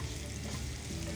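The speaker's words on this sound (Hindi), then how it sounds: "अब प्याज को करेंगे हम बिल्कुल, हमने इसको सॉफ्ट करना है, कलर नहीं देना है।" Chopped onions frying in a pan, softening without browning for a shahi chicken curry, producing a dense, even sizzle that stays steady and close throughout.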